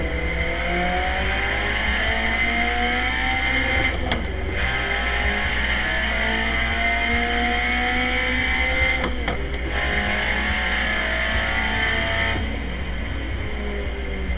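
Ford Sierra RS500 Cosworth BTCC race car at Monza in Assetto Corsa, its engine droning steadily and loudly throughout with rising and falling revs, brief gear-shift breaks, and no talk over it.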